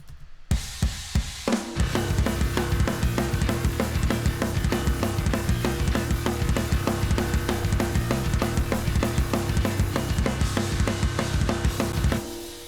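Bass and drums playing together from a metal mix, opening with a few sparse hits before a loud, dense, driving groove of pounding drums and thick bass that runs steadily and cuts off near the end.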